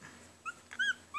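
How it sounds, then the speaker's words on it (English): A 19-day-old puppy whining in a few short, high, thin whimpers with brief gaps between them, close and fairly faint. "he's whining right now because he'd rather me pick him up"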